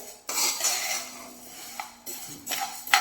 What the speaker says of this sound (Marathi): उडीद डाळ भाजून घेणार आहे उडीद डाळ ही आपल्याला छान अशी भाजून घ्यायची आहे